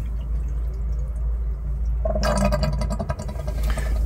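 Water runs back through the drained water pipes of a caravan or motorhome with the taps opened, a gurgling, dripping rush that starts abruptly partway through over a steady low hum.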